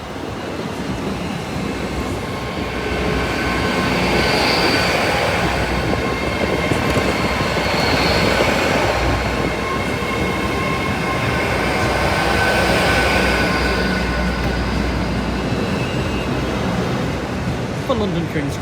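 A Class 800 train passes a High Street level crossing, a loud, steady rumble of wheels and carriages lasting the whole stretch, with a high whine swelling and fading overhead; a voice talks faintly under it.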